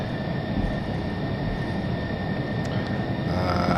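An F-14D Tomcat jet in Flight Simulator X, a steady broadband engine roar with a faint whine held throughout, even and unbroken.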